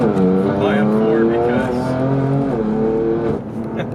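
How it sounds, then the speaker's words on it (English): The turbocharged S55 inline-six engine of a 2019 BMW M4 CS with M Performance exhaust revs hard and rises in pitch, loud and close, with a voice speaking over it. "the S55 engine just revs out so freely for a turboed inline six"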